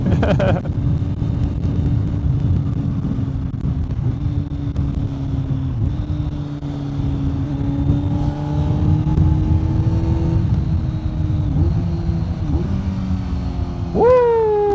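Kawasaki Z900 motorcycle with a Leo Vince GP Corsa black slip-on exhaust, heard as a loud steady engine drone that rises and drops through gear changes while riding, ending on a sharp rev.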